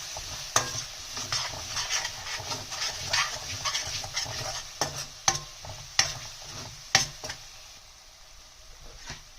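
Spices with turmeric and crushed red chili cook in a gravy for Sindhi smoky eggplant bharta, giving a soft, close sizzle and bubbling under repeated stirring, with sharper spoon clacks against the pan toward the end.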